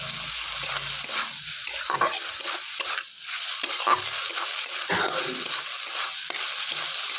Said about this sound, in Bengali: এটা আমার মশলার সাথে আমি ভেজে নিই